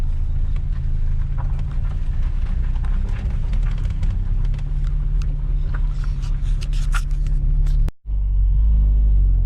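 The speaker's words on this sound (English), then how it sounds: "we're getting the car out on the streets now. Just doing our part throttle." A tuned car driving on a street at part throttle, a steady close engine rumble and drone with no talk, cut briefly near the end before the rumble resumes deeper.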